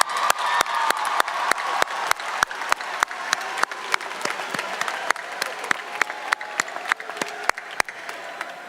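A high school commencement crowd at Spring Valley's 2018 ceremony applauds in a steady, lively roar, with a few loud individual claps close by punctuating the sustained clapping throughout.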